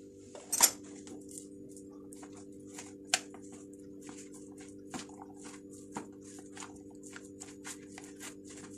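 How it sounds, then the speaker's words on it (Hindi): Fish mince being mixed with spices and sliced cheddar cheese in a bowl, giving a series of light clinks and taps of a utensil against the dish, quiet and close. "ये सब इसमें डाल के अच्छी तरह से अब इसको मिक्स कर लेंगे"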